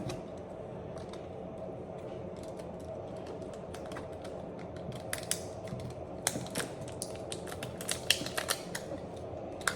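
Transparent packing tape is pulled and pressed down while wrapping a homemade gift basket, giving close, irregular crackly rips and sticky snaps that grow busier and louder toward the end, with no talking.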